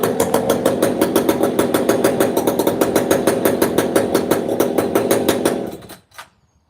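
Stock 562 chainsaw engine running close and loud with a fast, even pulsing roar, then cutting off abruptly near the end, followed by a faint brief clatter.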